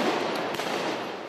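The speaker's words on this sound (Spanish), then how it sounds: "los manifestantes son disueltos por la Guardia Nacional entre el sonido intimidatorio de los disparos" Gunshots as the National Guard breaks up a night street protest in Venezuela: a short burst of loud, dense crackling reports over broad noise, with no voices.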